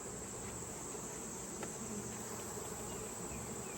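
Honey bees buzz around a hive super during comb honey harvesting, a faint, continuous swarm hum with occasional louder passes of individual bees close by.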